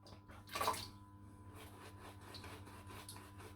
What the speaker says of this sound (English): I'm going to add some water to this on the face